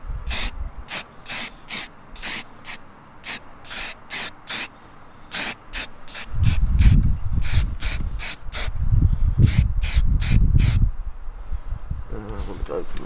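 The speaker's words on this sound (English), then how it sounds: "I'll spray this off first." Short bursts of spray paint hissing in a quick, uneven rhythm, with a louder stretch of rubbing and handling noise partway through.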